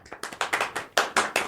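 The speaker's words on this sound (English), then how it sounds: "And there's applause as she leaves the stage." Audience members clap in short, sharp bursts as a presenter leaves a stage, roughly nine distinct claps in an uneven rhythm, close and fairly loud, with no talk.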